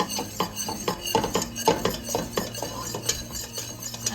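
Utensils clink and scrape against a pot in a steady, repeated rhythm while whisking broth into cooked flour and vegetables for chicken wild rice soup, close up, with no talking.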